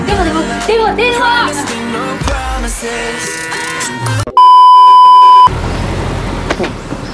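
A telephone rings in a steady electronic tone, a loud sustained beep of about a second, after a stretch of background music with sound effects.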